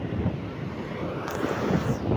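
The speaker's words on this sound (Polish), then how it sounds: "Patrzcie, jakie fale ogromne." Baltic Sea waves break on the shore under strong wind that buffets the microphone, a steady roaring wash of surf and gusts with no talk.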